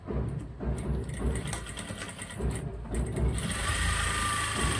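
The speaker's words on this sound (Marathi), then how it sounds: "याला आपण लगेच शिलाई टाकून घेऊया" A sewing machine stitches gown fabric in rapid, rhythmic mechanical bursts with brief gaps, then settles into a steadier whir, close and clear.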